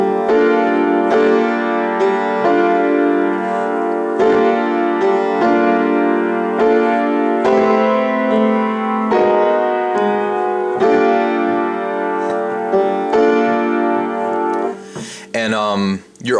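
A piano loops a chord progression of lush major seventh and added-ninth voicings, each chord struck and sustained in a steady repeating rhythm, close and full, with a brief odd warbling tone near the end.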